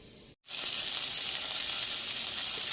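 Chili, garlic and salt sizzle loudly in a little oil in a pan for stir-fried tofu, a steady bright frying hiss after a brief silent gap at the start, with no talking.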